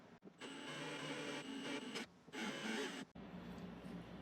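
A step drill bit bores a 5/8-inch hole through a plastic saddlebag lid, giving a steady, fairly faint whirring grind in three bursts separated by brief pauses.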